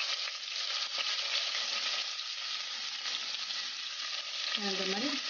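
Onions sauté with cinnamon and cloves in hot oil for coconut milk rice, a steady close crackling sizzle throughout, with a short voice near the end.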